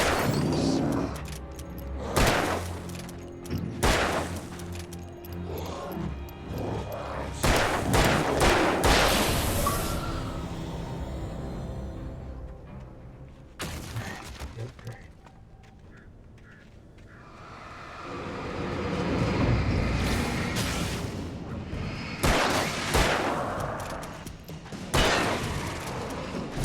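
Gunfire in the video game Alan Wake 2, loud clustered shots and booming impacts in several bursts, separated by quieter stretches of ambient rumble.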